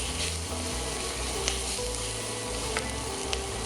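Shallots frying in a pan for a braised smoked pork shoulder with red wine, a steady close sizzle with faint stirring clicks throughout.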